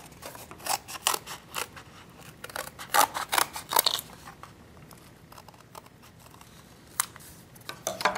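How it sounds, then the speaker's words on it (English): Scissors snip repeatedly through paper or craft material while cutting out a piece for a D&D trapped-well terrain model, close-up crisp clicks in irregular clusters with short pauses between, and no one talking. "So what I'll do is I'll cut that out."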